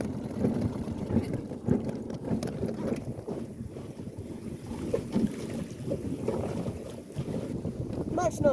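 A 5-metre sailing dinghy moves under sail with the engine off, heading out toward Sealand (Roughs Tower); wind buffets the microphone while water sloshes and rushes steadily against the hull.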